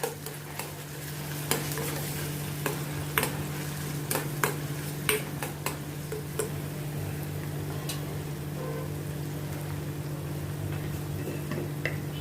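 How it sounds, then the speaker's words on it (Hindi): Baby potatoes tossed with soy sauce in a hot pan for crispy chilli garlic potatoes: a steady close sizzle runs throughout, broken by scattered sharp clicks and scrapes of a spoon against the pan, over a constant low hum. "इसको भी अच्छी तरह से मैं मिक्स करती हूँ।"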